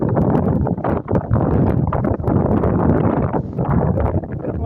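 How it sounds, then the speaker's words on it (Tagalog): Strong wind buffets the microphone outdoors in an old town district, a loud, continuous roaring rumble with gusty swells and no pauses. "Lakas ng hangin eh."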